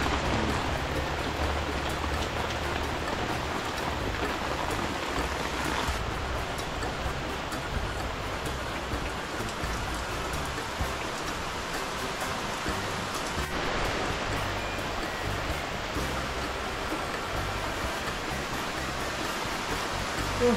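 Rain falls steadily on and around a house, a continuous hiss of drops that stays even in loudness for about twenty seconds with no talking.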